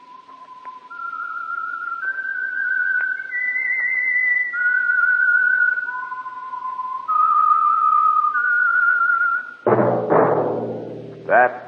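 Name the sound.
whistled theme tune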